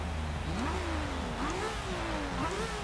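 A 1973 Nissan Skyline GT-R engine revs repeatedly in Forza Horizon 3, the pitch rising and falling in several blips over a steady idle rumble, close and loud with no voices.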